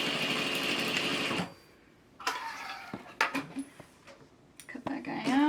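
A home sewing machine stitching a fabric face mask runs in a steady rapid whir for about a second and a half, then stops, followed by clicks, handling noise and a voice talking.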